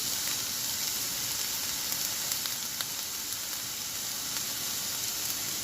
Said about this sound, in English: So once this oil is sprayed, I'm gonna add diced onion.